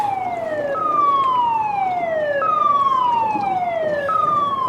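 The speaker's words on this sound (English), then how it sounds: "I hope y'all can hear me with that loud siren going off" A loud siren wails in repeating descending sweeps, close and steady, near a dam.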